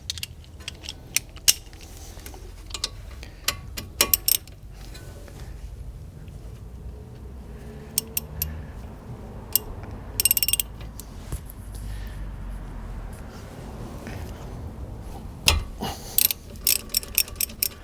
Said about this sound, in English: So I'm using a 7mm Allen on this.